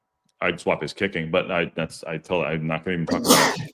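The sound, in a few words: sneeze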